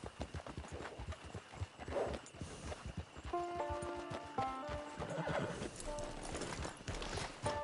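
Horse hooves clip-clop steadily on the ground in Red Dead Redemption 2, with the horse neighing and whinnying partway through, moderately close and alone without talk.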